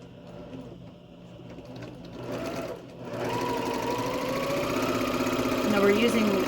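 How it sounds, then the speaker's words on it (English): A sewing machine chain-pieces cotton quilt pieces with a quarter-inch seam, stitching in a close, rapid mechanical whir that pauses briefly before running on faster and steadier. "So I'm just going to pull them over one at a time and just start sewing them, and I'm going to chain piece them to make them go faster."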